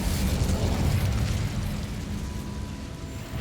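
An Incendio fire spell is cast in Hogwarts Legacy, a loud fiery whoosh and rumbling blast that fades out over a few seconds.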